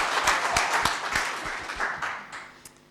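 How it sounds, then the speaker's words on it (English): An audience at a cohort celebration summit claps together, a loose rhythmic beat of hands over a wash of scattered clapping that gradually fades toward the end. "Clap with enthusiasm, guys."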